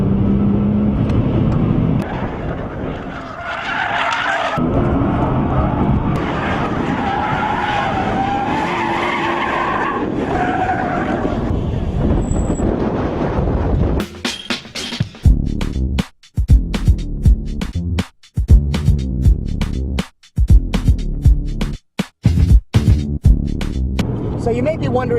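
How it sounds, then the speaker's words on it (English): A Nissan GT-R driven hard around a makeshift cone-marked track, engine roaring steadily before tires skid and squeal in sharp repeated bursts broken by brief gaps, loud and close. "How can you not take a GTR and drive it fast on a track?"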